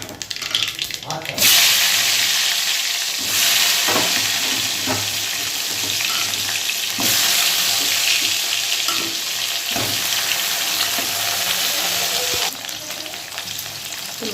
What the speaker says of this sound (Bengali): একটু আলু দেবো, একটু কালো জিরে ফোড়ন দেবো